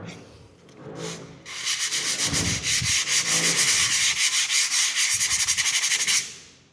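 Steady rhythmic rasping of P180 sandpaper rubbed back and forth over STABILL UNIKAT filler, close and loud, with brief pauses between strokes.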